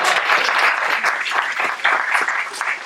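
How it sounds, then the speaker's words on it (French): A conference audience applauds in a short, dense burst of clapping, close and lively, fading slightly toward the end with no voices over it. "vous pouvez applaudir"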